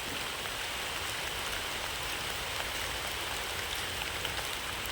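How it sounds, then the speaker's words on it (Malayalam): Steady rain falls in an even, hissing wash with no pauses, a dense patter on surfaces close by. "നല്ല മഴ പെയ്യുന്നു."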